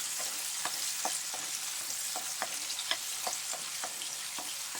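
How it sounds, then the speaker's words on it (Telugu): Onion pieces fry in hot oil for a chicken fry dish, giving a steady, bright sizzle with scattered light taps and scrapes from stirring, close up and without talk. "ఇప్పుడు ఉల్లిపాయ ముక్కలు వేస్తున్నానండి. త్వరగా వేయించుకోవాలండి."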